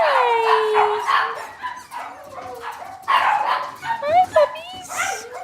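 Cavalier puppies yip, whimper and squeal in high, wavering cries outdoors on a rainy morning, close and loud, while someone talks to them warmly between the calls.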